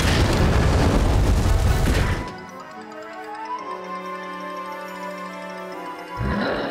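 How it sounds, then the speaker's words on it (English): In the video game Yu-Gi-Oh! The Falsebound Kingdom, a plasma laser cannon attack: a loud broadband blast roars for two seconds, then a wavering electronic whine with layered tones follows, before another burst starts at the end. "Plasma Laser Cannon."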